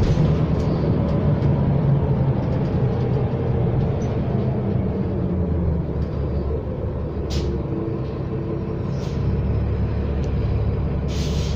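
Ride aboard a New Flyer XD60 articulated city bus in service, a loud continuous engine rumble and road roar with a few short hissing bursts like air brakes, no talking.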